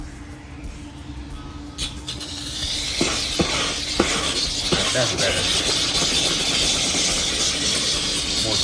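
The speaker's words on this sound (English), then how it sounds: "So we hit it with the steamer again." A steamer hisses steadily while working the trunk panels of an SN95 Ford Mustang, the broadband steam rising and staying loud and close, with a few brief clicks and a short spoken remark near the start.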